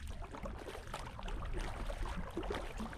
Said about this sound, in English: I'm going to start paddling, and once I get up to speed